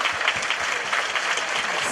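Short stretch of dense, loud audience applause at a Tokyo fan meeting, the JCW Autumn Festival, with clapping steady and close throughout.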